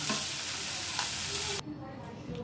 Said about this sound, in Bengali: কাজু আর চারমগজ সব ভেজে নিই